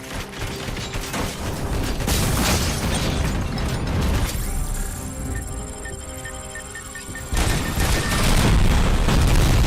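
The ED-209 robot in RoboCop: Rogue City launches missiles, loud bursts and explosions mixed with mechanical clanking, a dense barrage that drops briefly midway and then resumes with heavy booms.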